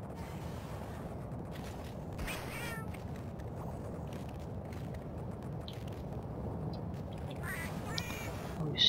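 In the Monster Hunter video game, a Felyne cat gives a few short, faint meows over a steady low rumble of game background noise, spaced irregularly through the scene.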